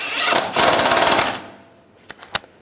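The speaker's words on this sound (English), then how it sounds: "Now tighten this bolt down." A power tool, likely an impact wrench, tightens a new bolt on the front lower control arm of a 2013-2016 Dodge Dart, giving a loud rapid hammering burst of about a second, then a few faint clicks.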